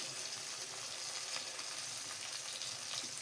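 Cumin and coriander paste with turmeric frying in a hot pan, giving a steady, dense sizzle that runs without a break and stays fairly loud, with no talking.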